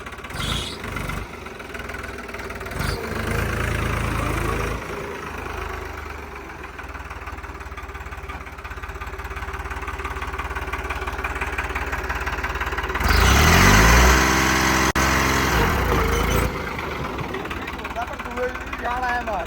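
A New Holland 3630 tractor engine idles in a steady low rumble, revving up briefly near the end, while people talk nearby.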